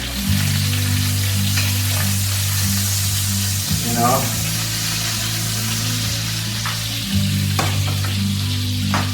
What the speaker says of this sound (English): Now we flip the burger.